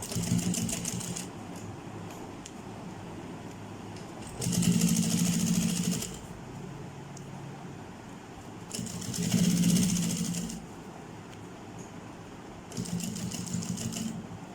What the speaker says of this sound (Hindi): अब हम दोबारा से सिलाई इसके ऊपर लगाएंगे। ये देखें, अब बिल्कुल सीधी आपने सिलाई लगानी है।